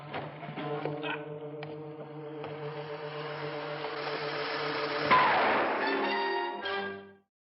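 A balloon explodes in a TV episode of Land of the Giants: a sustained rumbling hum with dramatic sound effects builds up and ends in a sudden burst, then a noisy rush and a ringing tail that fades out.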